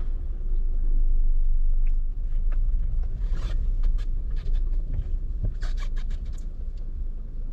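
A very long truck with two drivers, one in front and one steering from the rear, rolls along a road, giving a steady low engine rumble with scattered scrapes and rattles close by.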